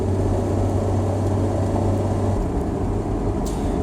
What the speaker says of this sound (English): the Benz gearbox also anxiously shifts up again at about 4000 RPM after such an improper use of full throttle